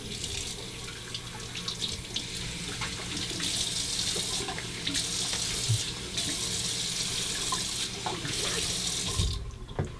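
A bathroom sink tap runs hot water as hands cup it to wet a face before a razor shave, a close, steady splashing stream with brief interruptions and small splashes.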